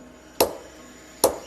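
A hammer taps metal scissor blades to bring them into alignment: two sharp, distinct knocks about a second apart, close and clear against a quiet room.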